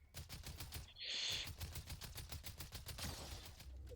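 Rapid bursts of automatic gunfire from a French-language first-person shooter, a steady rattling string of shots with one brighter, louder blast partway through, heard on its own without talk.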